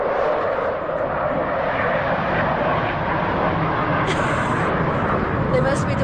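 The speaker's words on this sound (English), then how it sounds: "a fighter jet just come" A fighter jet roars over high-elevation mountains near a Toyota 4Runner campsite, a steady, broad rushing noise that fills the whole clip with a voice talking over it.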